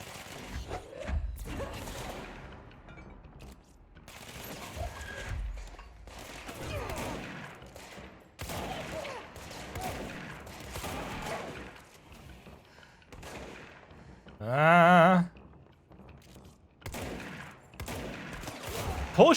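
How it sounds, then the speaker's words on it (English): Gunfire in the action game Control comes in short scattered bursts mixed with game effects, and a louder sharp blast cuts through near the end. "Poor shooting."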